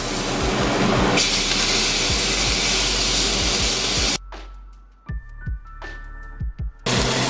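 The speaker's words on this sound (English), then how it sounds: "I'm gonna season my steak liberally with salt. I'm gonna throw it in the pan." Salted steak hits a smoking-hot pan with a loud, steady sizzling hiss, then cuts to quieter stretches of crackling spatter before the sear roars back at full volume.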